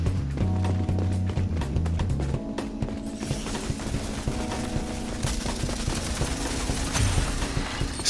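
Automatic weapons spray in the shooter game Rogue Company: a dense, continuous clatter of rapid shots over busy game noise and a low humming tone, fairly loud throughout.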